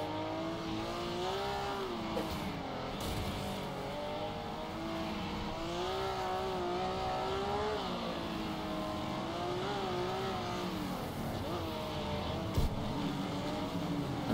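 A throaty car engine in a racing video game drones and revs steadily, its pitch rising and falling with the throttle through the whole stretch, loud and close with no talk over it.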